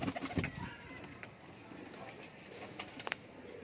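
Pigeons cooing, a few soft low coos early on against a noisy background, followed by faint bird sounds and brief rustles.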